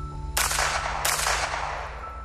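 Two sharp gunshots crack out as a sound effect in a crime reconstruction, spaced well under a second apart, each followed by a fading ring over a steady low hum.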